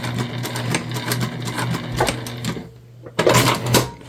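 Sewing machine topstitching the lining of a tote bag, a close, steady run of rapid needle strokes that pauses briefly and then starts up again, with no talking.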